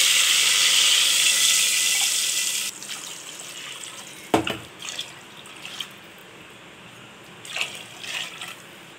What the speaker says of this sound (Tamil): அதே டம்ளரில் வந்து நம்ம 4 டம்ளர் தண்ணி ஊற்றிக்கலாம்.